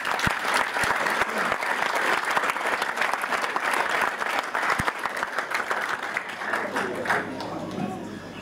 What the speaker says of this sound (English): Big round of applause. Well done, girls.